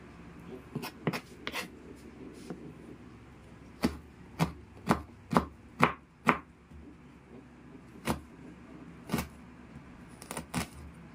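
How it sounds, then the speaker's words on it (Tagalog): A knife slices ginger on a cutting board, a series of sharp, distinct chopping knocks, some in quick runs and others spaced apart, close and clear with no talk. "Diba, napakaganda ng ating pagkakahiwa ng luya"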